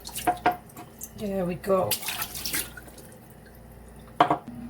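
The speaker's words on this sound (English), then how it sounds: "Rinse it off one more time." Authentic St Vincent sea moss is rinsed under running water, a soft splashing and dripping running through the clip beneath a person's speech.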